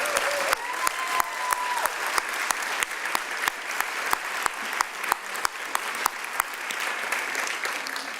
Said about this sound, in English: They deserve our recognition and our gratitude and that big round of applause.